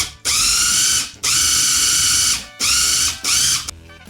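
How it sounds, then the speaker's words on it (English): Food processor pulsing hazelnuts into butter, loud close grinding whirs in four bursts of uneven length with short pauses between, the motor straining under a heavy load. "I think this is too much for my processor"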